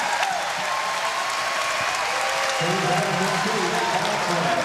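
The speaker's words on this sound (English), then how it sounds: "This crowd will give him a hand." Spectators at a college volleyball match between the Hawaii Warriors and Long Beach State applaud in a dense, continuous roar of clapping that fills the arena, loud and sustained, with a voice talking underneath.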